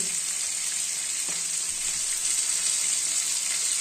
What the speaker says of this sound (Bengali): আমার মাছগুলো লাল লাল করে ভাজা হয়ে গেছে।